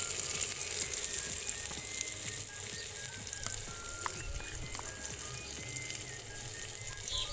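Vegetables fry in oil in a pan with salt and turmeric for curry rice, a continuous faint crackling sizzle with scattered light clicks and pops, no talk heard.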